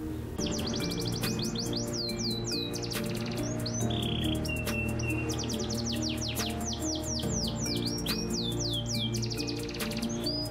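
A caged pet songbird sings alone in a bright, steady stream of rapid chirps and sweeping whistled trills, close and clear, with a low hum in the background.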